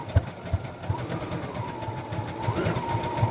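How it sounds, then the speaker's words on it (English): A sewing machine running a zigzag stitch on fabric scraps, a steady mechanical whir with regular rhythmic needle thumps, close and moderately loud, with no talk. "You don't have to back stitch with the zigzag stitching."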